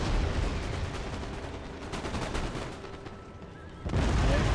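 Canister shot artillery fire in Empire Total War, a dense, continuous roar of cannon and musket fire, loud and close, swelling again in a fresh heavy volley near the end.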